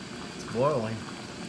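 Water boils on a Jetboil camping stove with a soft, steady bubbling hiss, briefly overlaid by a short voiced sound.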